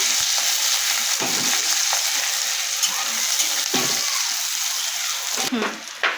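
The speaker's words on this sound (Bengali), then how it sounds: "তার মধ্যে পেঁয়াজ দিয়ে দিচ্ছি কটা কাঁচা লঙ্কা চেরা দিয়ে দিচ্ছি একটু ভেজে নিচ্ছি পেঁয়াজ কাঁচা লঙ্কাটা" Sliced onion and slit green chillies fry in oil in a home kitchen, a loud continuous sizzle with occasional stirring scrapes and a brief clatter near the end.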